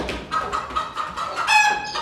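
Rooster clucking nearby in a short series of sharp, rhythmic clucks that build to a louder, higher call near the end, with no talk.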